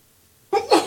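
One sharp sneeze bursts out of near silence during a drainage board meeting, a quick two-part huff and explosive release, close and loud.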